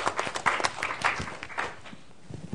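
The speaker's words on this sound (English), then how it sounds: "And please give a round of applause to Ambassador Luoto." Audience applause after a talk at a policy center event, a burst of dense clapping that tapers off over a couple of seconds.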